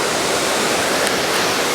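Minnehaha Falls roars as a dense, steady wash of falling water, loud and close with no breaks or voices.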